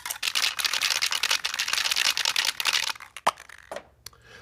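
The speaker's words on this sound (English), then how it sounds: "our first step is to shake our can of paint" A spray paint can shaken hard, a steady run of rapid rattling strokes with the mixing ball clacking inside, then a few scattered clicks and taps as the shaking stops, close and loud with no talk.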